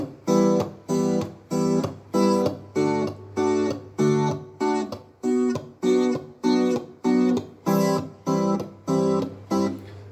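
Clean guitar chords chopped short on the offbeats in a reggae style, a steady run of crisp stabs over a low sustained bass tone, no voices.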